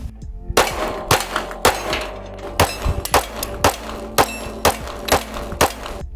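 Sharp gunshots from a Smith & Wesson M&P 9 Pro pistol with a ported barrel, fired at a range in a fast irregular string of about ten loud close reports with ringing echoes between them.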